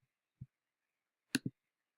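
Three or four isolated clicks from a computer keyboard or mouse, close and quiet, separated by silence.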